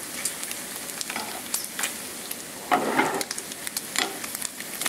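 Bacon strips frying in a pan, a steady close crackle and sizzle with scattered sharp pops and a brief louder burst of spitting grease partway through, no voices.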